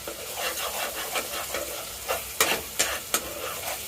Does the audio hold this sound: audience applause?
no